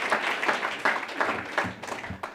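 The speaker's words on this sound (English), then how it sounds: "I'll give them a big round of applause because they're all nervous" Audience applause at a Fishtrap Fireside reading, a small room of people clapping with distinct individual claps and soft thumps audible, close and fairly loud throughout.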